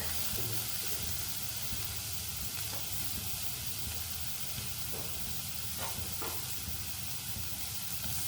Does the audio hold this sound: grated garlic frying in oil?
yes